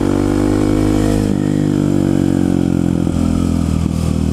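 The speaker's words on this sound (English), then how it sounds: "Oh, the backfires from the FMF exhaust." FMF aftermarket exhaust on a loud motorcycle, engine running steadily and close, with a few uneven popping backfire crackles late in the stretch; no talk.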